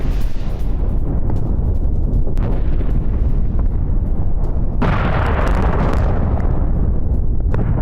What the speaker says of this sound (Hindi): बीच शहर में मिसाइल गिरने से धमाका।